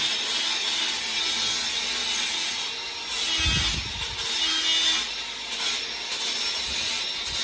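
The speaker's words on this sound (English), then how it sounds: "We're just sanding down all of the edges just before we put the next lot of paste in." An angle grinder sands the fibreglass edges of a koi pond, giving a steady, close, harsh rasping whine with a brief heavier surge near the middle and no talking.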